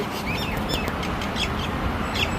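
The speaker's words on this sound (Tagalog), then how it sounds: "Itong mga ibon na ito, nakakagulat talaga." Birds chirping and calling at night, with high, thin repeated tweets over a loud, steady background rumble of noise.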